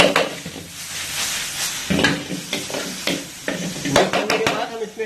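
Seasonings, salt, sugar, white pepper and chicken powder, being stirred into Chicken Manchurian in a restaurant-style street-food kitchen, with repeated scraping and clanking of a utensil against a pan over a steady sizzle.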